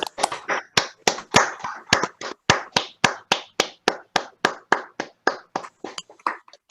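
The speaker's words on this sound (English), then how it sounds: "Please all unmute yourselves for a big round of applause." Attendees of an online annual meeting unmuted and clapping, a few people producing sharp, distinct claps in a loose, roughly regular rhythm, close to the microphone and with gaps between strokes.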